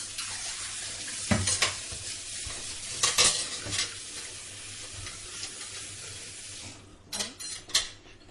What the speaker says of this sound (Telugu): మసాలా వేసుకుని కొంచెంసేపు కలుపుతాను